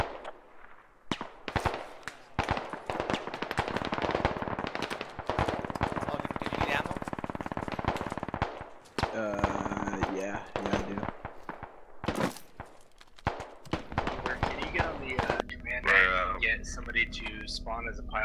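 Gunfire in the tactical shooter game Squad, with sharp cracks and rapid bursts of shots, some near and some distant, mixed with radio chatter and people talking.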